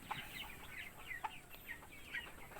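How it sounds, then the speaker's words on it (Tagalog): Several short clucks and chirpy calls from roosters in a backyard farm, close by and irregular, over a steady low background hum. "Ito pa yung mga tandang natin."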